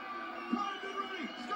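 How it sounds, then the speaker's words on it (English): Wrestling arena crowd cheering loudly in a frenzy during a Booker T U.S. Championship match on WCW Nitro, a steady dense roar of voices filling the space throughout, with commentary talk over it. "The crowd is in a frenzy. Listen to the pop, man."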